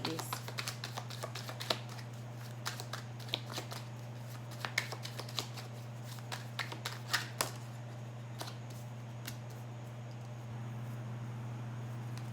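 Lenormand cards shuffled and drawn one by one: a crisp flurry of riffling followed by separate light snaps and slides, close up over a steady low hum, with no talk.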